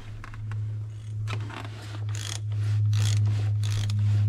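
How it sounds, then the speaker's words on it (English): A half-inch ratchet clicks in quick repeated bursts as it loosens the fuel filter cap on a 6.0 Powerstroke diesel, close up over a steady low hum. "Half inch ratchet or 24 mil socket to remove the cap."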